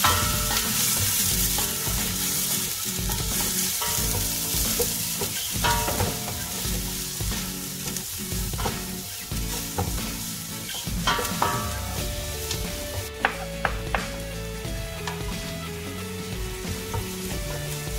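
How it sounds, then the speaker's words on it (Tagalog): Onions sautéing in a pan for fish head curry, a steady loud sizzle with stirring and utensil scrapes running throughout, no voices. "So, saute the onion."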